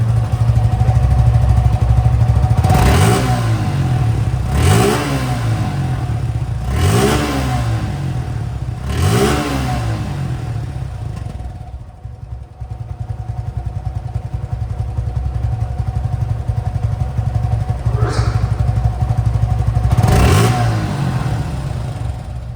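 A second-hand Suzuki Gixer SF FI motorcycle engine idles with a steady throb, revved sharply four times in quick succession, then idling, then two more revs near the end.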